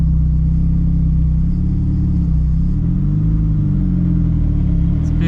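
A built Nissan S15 pulls away gently from a stop, its engine giving a loud, close, low rumble that swells slightly as the revs climb smoothly, with no voices over it.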